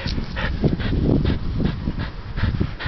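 Excited dogs whimpering and whining in rapid, overlapping bursts, close and fairly loud, with a steady busy rumble of paws and panting underneath; no talking.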